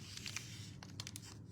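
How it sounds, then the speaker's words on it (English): Cutting open a Stampin' Up! package during an unboxing, with a few quick, quiet snipping and crinkling sounds against a soft background hum. "I go ahead and cut this off."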